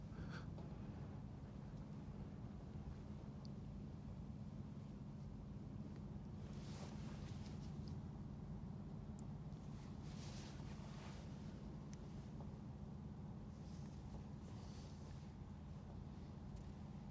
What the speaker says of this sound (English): There's a law enforcement speedboat.